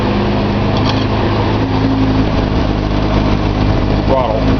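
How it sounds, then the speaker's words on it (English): A Nissan 280Z engine running on a test stand, a loud steady idle with a rough low rumble that rises briefly near the end as the throttle is blipped. "let's give it a quick rev."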